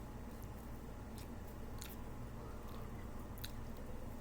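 Close-up chewing of homemade stir-fry with meat and tender vegetables, quiet wet mastication with a few soft crunchy bites scattered through, faint and intimate, no talking.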